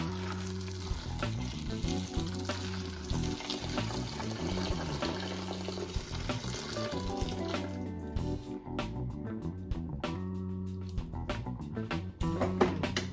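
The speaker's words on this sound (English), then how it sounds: "I'll add all of that water right on top of the rats so I can get them thawed out as quickly as possible" Hot water is poured into a container over frozen rats being thawed, a continuous splashing and gurgling fill that runs steadily throughout, close to the microphone, with clattering and sizzling-like texture and no talking.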